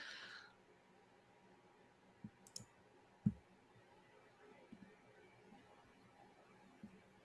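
A computer mouse clicks faintly and sparsely, a few scattered taps, while CryptoPunks hoodie NFTs are bought online. The clicks sit against a quiet room with no talking.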